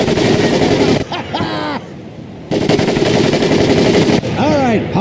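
Rapid, loud machine-gun bursts from the WW2 Pacific boot-camp training in Medal of Honor Pacific Assault, with two sustained volleys broken by a short lull where a voice speaks.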